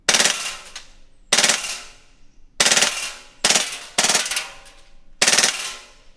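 An Elite Force Beretta PMX airsoft submachine gun fires full-auto, with six loud, sharp bursts of rapid shots, each about half a second long and separated by short pauses, up close and with no talk.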